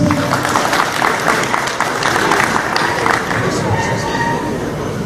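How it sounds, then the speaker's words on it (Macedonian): A crowd claps steadily for several seconds at the opening of a sheep exhibition, a dense patter of applause filling the room. "Голем аплауз."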